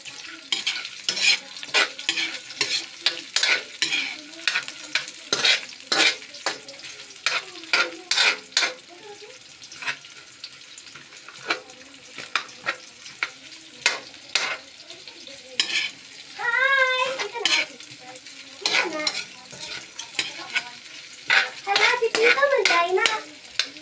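Lumpia frying in hot oil in a pan, stirred until golden brown, with a bubbling sizzle broken by repeated sharp scraping strokes of a utensil, and a voice briefly heard nearby.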